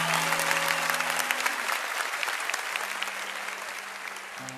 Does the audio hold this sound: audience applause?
yes